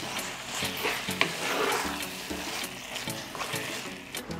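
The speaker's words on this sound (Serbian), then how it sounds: "I sve ću ovo promešati i nastaviti da pržim još 10 minuta." Peppers fry in a pan with garlic, parsley and vinegar while being stirred, giving a steady sizzle with repeated scraping strokes and a few sharp clinks, close and fairly loud, with no talking.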